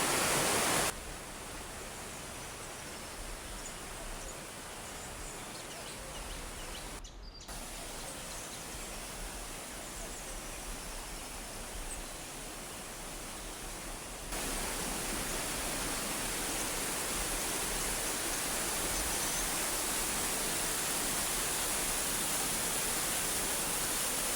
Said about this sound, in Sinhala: ඔයාලට ඇහෙනවා ඇති වතුර සද්දේ